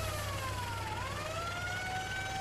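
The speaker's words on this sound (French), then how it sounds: "tu entends la sirène de la police" A police siren wails continuously, its tone sweeping slowly down and then back up in a long cycle. It is steady and moderately loud over a low rumble, with no voices.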